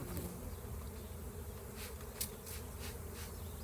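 Honey bees buzz steadily around a honey extraction, a dense, continuous drone close by with a few louder passes as individual bees fly near, and no talking.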